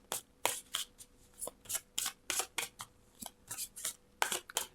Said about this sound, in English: get comfy as I'm shuffling the cards